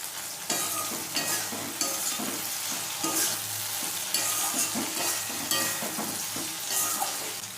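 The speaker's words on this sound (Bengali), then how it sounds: "ভেন্ডিটা লাল লাল করে ভেজে নেব।" Okra sizzles in hot oil in a pan while a utensil stirs it in steady repeated scrapes, close and fairly loud throughout with no talking.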